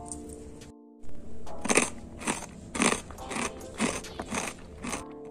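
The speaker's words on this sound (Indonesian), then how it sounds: "Renyah, gurih, kriuk-kriuk" Crunchy garlic tapioca sticks bitten and chewed close up, a brisk series of about seven sharp, crackling crunches after a brief silence, alone without talk.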